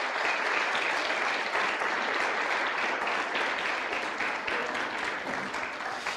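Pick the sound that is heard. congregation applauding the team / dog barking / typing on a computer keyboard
congregation applauding the team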